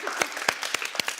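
Audience applause for dancers at an indoor gathering, a short, fairly quiet burst of scattered hand claps with a few sharper individual claps standing out.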